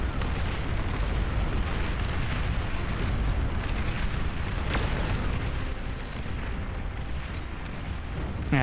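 The Juno missile launcher fires in Beyond All Reason. A dense, continuous roar of launches and explosions rumbles throughout, loud and unbroken, with one sharper crack midway.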